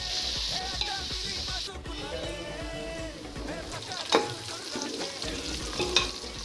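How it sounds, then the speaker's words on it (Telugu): Onions deep frying in ghee sizzle with a soft, continuous crackle, interrupted by stirring scrapes and a couple of sharper clinks, fairly quiet and close. "ఇప్పుడు వేరొక గిన్నెలో నెయ్యి పోసి ఉల్లిపాయని డీప్ ఫ్రై చేయండి."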